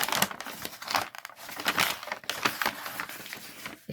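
Faux leather material crinkling and crumpling in the hands, a close, quiet, irregular rustle of crackles running steadily with no talk.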